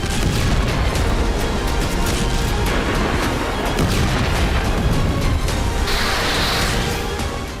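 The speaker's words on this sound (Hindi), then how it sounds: "गाजा में किस कदर बारूदी प्रहार किया जा रहा है और कितने बड़े बम का इस्तेमाल किया जा रहा है" Bombs explode in Gaza in a loud, continuous roar of heavy blasts and rumbling booms that stays intense throughout, with no speech.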